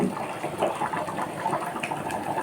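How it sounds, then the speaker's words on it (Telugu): Mutton curry boiling in a pot, a steady close bubbling and churning with no break and no voices. "ఇది మటన్ ఉడుకుతుంది"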